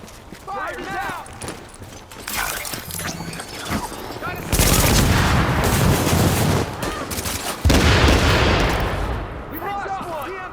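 Heavy volleys of gunfire erupt in The Division video game, loud sustained bursts starting mid-clip and swelling twice more, with shouted voices and chatter heard before and around the shooting.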